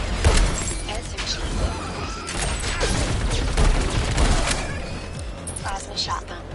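SMG fire from the twin-stick shooter Alienation comes as dense, rapid bursts of sharp shots mixed with explosions and game effects, loud and steady across the span, with a voice talking over the action.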